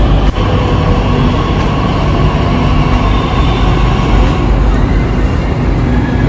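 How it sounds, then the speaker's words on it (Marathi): A Pune Metro train rolls in with a loud, steady rumble and rushing roar that holds evenly throughout, with a brief clunk near the start and faint high whine above. "आमची मेट्रो आली आहे"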